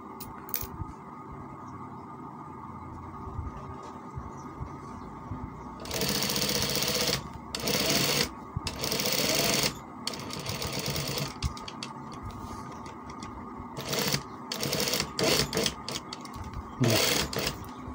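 A sewing machine stitches a kameez in fast mechanical bursts of varying length, loud and near, with pauses between runs and faint room noise in the gaps.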